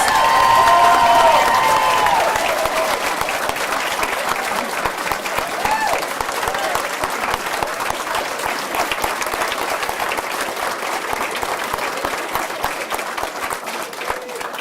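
Sustained, loud applause from a school board meeting audience honoring elementary school semifinalists and their teachers, dense clapping throughout with some crowd voices mixed in, fading slightly toward the end.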